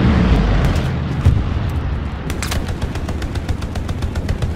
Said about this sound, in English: I'm throwing grenade